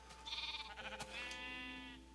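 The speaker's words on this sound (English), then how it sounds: "I should have two sheep in here that I can breed." Video game sheep bleat in a pen of livestock being bred, two quick wavering bleats in succession, clear and moderately close against a faint steady background tone.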